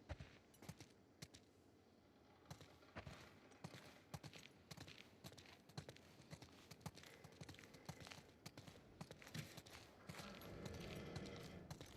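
Horses walk across ground in The Last of Us Part 2, their hooves producing an irregular run of clip-clop knocks, fairly faint, with soft ambient background and no voices.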